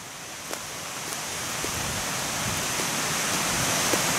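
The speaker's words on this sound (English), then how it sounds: "let's go over here and look at this creek" Creek flowing hard outdoors, a steady broadband rush of water that holds evenly throughout, close and fairly loud, with a few faint clicks over it.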